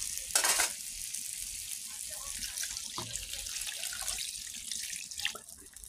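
Water goes into a hot, sizzling pan of curry with eggs and boiled potato, giving a steady close hiss and bubbling with a brief louder splash near the start and no talk.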